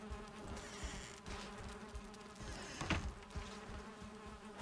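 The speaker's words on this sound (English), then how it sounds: "Someone has annoyed the bees." Angry bees buzz in the video game Valheim, a steady insect drone with layered harmonic hum, fairly quiet and continuous, with a few soft thumps and a brief louder swell near the end.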